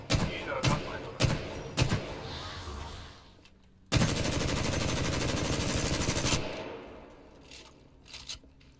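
Titanfall 2 shooting practice: sharp single gunshots crack in a quick uneven series, then a dense sustained burst of automatic fire runs for about two and a half seconds, followed by scattered lighter shots. Voices talk faintly underneath.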